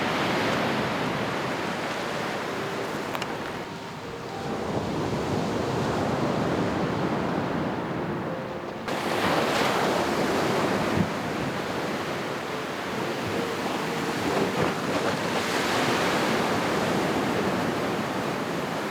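Waves break continuously on a beach along a trail in Turkey, a broad, steady roar of surf with surging swells and some wind buffeting, no voices.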